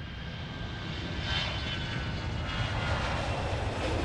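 Fixed-wing airplane at an airport just after landing, a steady broadband engine roar holding at a constant moderate level throughout, with no voices.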